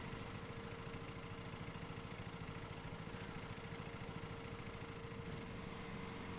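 A lawn mower engine in a lawn mowing video game idles with a steady, quiet droning hum and a faint constant whine, alone and unchanging throughout.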